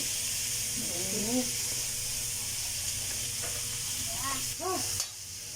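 Pakbet, a Filipino vegetable dish, sizzles steadily in a pan while it is stirred, making a continuous close frying hiss under a woman's intermittent speech.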